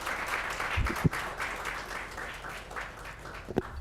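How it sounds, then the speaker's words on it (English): Steady applause from a panel-discussion audience fills the clip, a broad wash of clapping with a couple of sharper claps standing out. "Big round of applause for all of our panelists"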